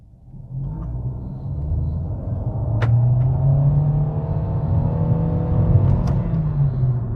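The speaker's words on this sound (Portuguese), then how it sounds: "eu vou pisar bem forte no acelerador para vocês escutarem o batente" A Fiat Cronos 1.3 sedan with a CVT gearbox accelerates hard under a floored throttle, its engine swelling from a low idle into a loud, sustained drone that holds at high revs, heard close and without talk.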